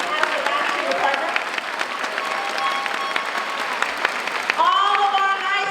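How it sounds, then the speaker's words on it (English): Applause from a school convocation audience recognizing the secondary schools, dense clapping throughout with crowd noise and some voices mixed in, a louder burst near the end. "let's give a round of applause for the National Department"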